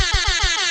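An air horn, used on a film or TV set to mark the end of shooting, lets out a single short, loud, buzzing blast up close.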